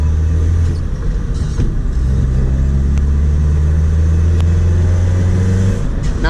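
A loud Nissan Sentra SE-R Spec-V with newly installed headers rumbles and revs steadily close by, its deep exhaust drone filling the whole stretch with no talking.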